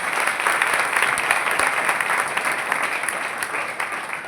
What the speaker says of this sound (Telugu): గట్టిగా చప్పట్లు కొట్టే ఉంటుంది.